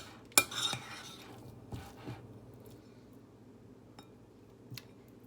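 A spoon scrapes and clinks against a bowl while tuna salad is mixed at a camp, a few sharp knocks and scrapes early followed by sparse faint taps in a quiet setting.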